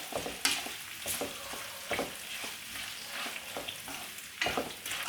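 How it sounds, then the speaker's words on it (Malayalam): Onions sautéing with salt in a pan for chicken majboos, a steady close sizzle broken by rhythmic scraping stirs, with no talking. "ഉപ്പിട്ട് കൊടുക്കാം ഇനി സവോള ഒന്ന് വഴന്നു വരട്ടെ"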